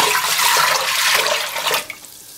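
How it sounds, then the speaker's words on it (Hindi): Five cups of water pour into a cooking pot: a steady, close rushing splash for about two seconds that thins out and trails off. "अभी 5 कप पानी ले लेंगे एक डेगची पे, इसको गरम कर लेंगे।"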